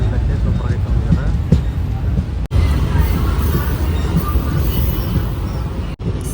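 Tirupati–Tiruvannamalai intercity express train running through a station without stopping, a loud continuous rumble and rattle from onboard with two brief dropouts, and a voice talking over it.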